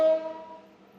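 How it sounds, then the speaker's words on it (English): A train horn sounds near a home beside a railway station, one sustained tonal blast that starts loud and slowly fades over about a second. "Please excuse me for this train honking sound."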